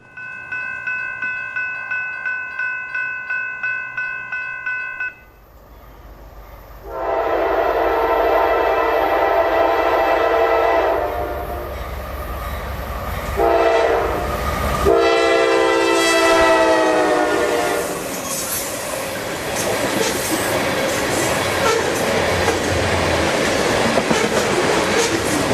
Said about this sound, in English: giving us one more chance to catch the train at beautiful Lake Lochloosa